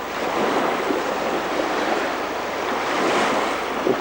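Sea waves breaking along a long beach on the Estonian coast, a steady wash of surf with gentle swells in loudness, mixed with light wind, no talking.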